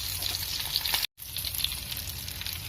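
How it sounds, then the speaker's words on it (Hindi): Chicken garlic fingers sizzle steadily in hot oil in a pan, a close, continuous crackling fry broken by one brief silent gap. "थोड़ा 2 मिनट और सेकने देंगे"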